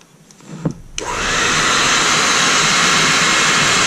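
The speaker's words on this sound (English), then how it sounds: "Now I am going to take my hair dryer and blow it back some more." After a couple of clicks, a hair dryer switches on and blows steadily with a loud, constant whoosh while a Sculpin fishing fly is being tied.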